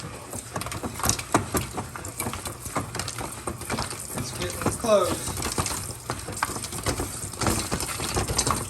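Popcorn popping in a covered pan being shaken on the stove, many irregular sharp pops and rattles over a dense rustling, close by, with a voice speaking briefly over it.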